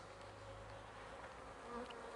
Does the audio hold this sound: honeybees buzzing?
yes